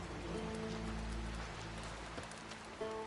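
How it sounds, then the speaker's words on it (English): Rain falls steadily in The Witcher 3: Wild Hunt as a soft, even hiss of drops, with low sustained music tones and a brief thump underneath. "It's raining."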